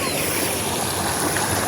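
River stream in Narayani village, Nawalpur, Nepal, rushing steadily with a dense, even wash of flowing water that holds constant throughout, close and fairly loud, with no voices.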